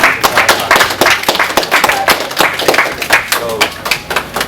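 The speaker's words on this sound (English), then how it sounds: "Give them a round of applause, man." An audience breaking into applause, a dense burst of close, rapid claps in an irregular patter that holds at a loud level through the clip.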